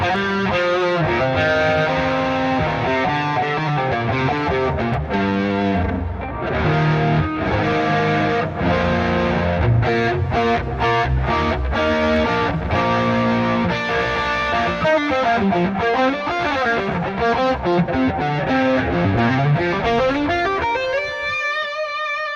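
Electric guitar played through a distortion effect, a loud, sustained and gritty stream of chords and riffs at a steady level, ending in quick ascending runs with no talking.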